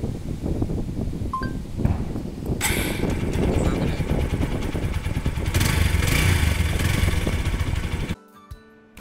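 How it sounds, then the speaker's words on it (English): A motorcycle engine starts up and revs, rough and loud, with some metallic clinking early on, then cuts off near the end. "engine start."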